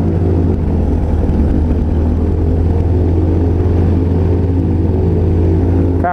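A microlight aircraft engine, just started with little choke on a warm afternoon, runs at a steady loud idle while warming up, a continuous close throbbing drone with no talk.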